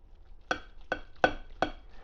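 A knife slicing through a pressure-cooked chuck roast from an Instant Pot, giving four sharp, evenly spaced cutting strokes with a clicking contact on the board, close and fairly quiet with no talk.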